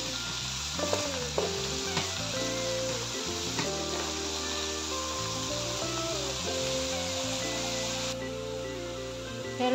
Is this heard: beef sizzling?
yes